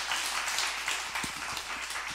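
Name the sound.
church congregation applause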